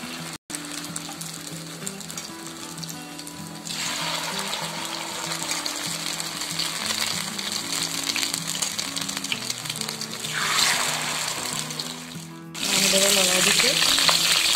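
Cabbage fritters frying in oil, a loud continuous sizzle and bubbling over about fourteen seconds, swelling as more batter goes in and turning harsher near the end.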